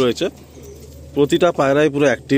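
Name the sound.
pigeons cooing in a loft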